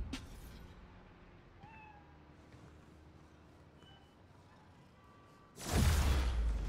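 A cat meows a couple of times over a quiet background hum in the video game Spider-Man: Miles Morales, then a loud burst of noise rushes in at the end.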